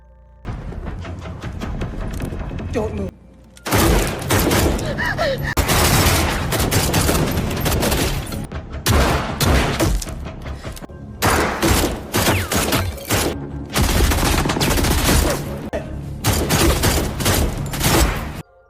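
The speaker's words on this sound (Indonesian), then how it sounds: "terjadilah aksi tembak-tembakan" Heavy gunfire in an action film rattles almost nonstop, dense volleys of rapid shots and booms with only brief pauses, loud and close.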